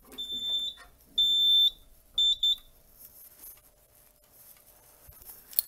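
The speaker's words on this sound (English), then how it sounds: "There's your alarm going off." A Gentex fire alarm wired to a Simplex 4010 panel sounds during a test, giving short piercing electronic tones in uneven bursts, close and clear over a quiet room.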